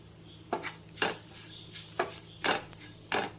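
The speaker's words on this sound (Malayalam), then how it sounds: "മസാലപ്പൊടികളുടെ പച്ചമണം ഒന്ന് പോകുന്നത് വരെ ഒന്ന് ഇളക്കി കൊടുക്കണം." Spice powders for a masala curry are stirred in a pan, with about six distinct scraping strokes spaced through the clip over a faint background hum.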